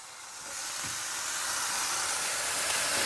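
Four-ounce meat patties, seasoned with salt and pepper, sizzle in a pan with a steady, broad hiss that swells after the first half second and holds evenly, no voices.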